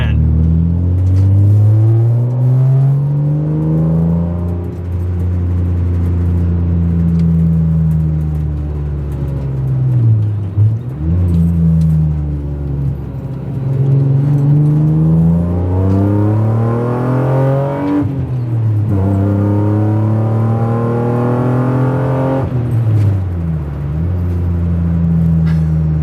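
A BMW E36 M3 with a Bimmerworld race exhaust revs repeatedly, deep raspy rumble rising and falling in several long throttle sweeps, loud and close.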